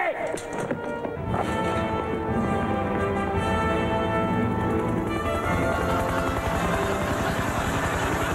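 A helicopter crash scene in a film plays as a loud, dense roar with a heavy rumble, turning into rapid rhythmic chopping beats toward the end.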